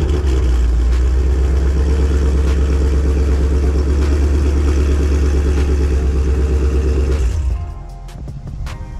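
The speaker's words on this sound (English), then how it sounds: "Coming over to a nice remote start, it has a good warm start to it." A 500+ horsepower 2021 Ford Mustang GT with about 50,000 miles, long tube headers and a Roush catback exhaust, idling after a remote warm start: a loud, close, steady deep rumble that eases off near the end.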